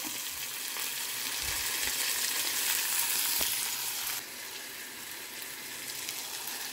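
Tomatoes cooking down in a pan for tomato dal make a continuous, even sizzle and hiss up close, dropping slightly in level partway through, with one brief knock from a utensil.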